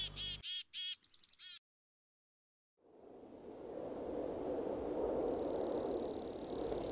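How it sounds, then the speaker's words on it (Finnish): Loud birds chirping, given in a Minecraft Tekkit game: repeated rhythmic trills at the start, a brief silence, then a rising, steady wash of ambient noise with a sustained high chirping tone toward the end, no talk. "Hitto noit lintuja. Hirveetä mökää pitää."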